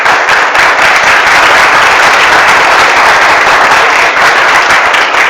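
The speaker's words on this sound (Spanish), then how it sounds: "Sí, aplaudan nomás, sí, aplaudan" A church congregation applauds loudly and steadily, a dense wash of many hands clapping close by with no break throughout.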